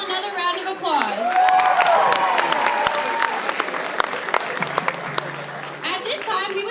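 Audience applause for pageant contestants in a school auditorium, a sustained burst of many hands clapping that swells then slowly thins out, with a voice speaking over the start.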